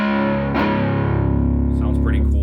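Electric guitar played through a pawn shop guitar amp with the reverb switched off, one sustained distorted chord ringing loudly and thickly, then briefly re-struck.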